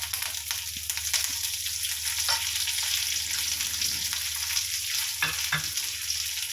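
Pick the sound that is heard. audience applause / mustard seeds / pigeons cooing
mustard seeds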